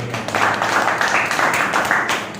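Steady applause from a seated crowd at an RCM meeting, a continuous patter of many hands at moderate loudness lasting the whole stretch, with no voice over it.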